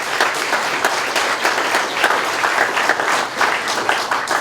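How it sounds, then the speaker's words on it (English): Audience applause at a Bendigo Bank community event, a full steady round of clapping, loud and dense from start to finish. "So, yeah, round of applause."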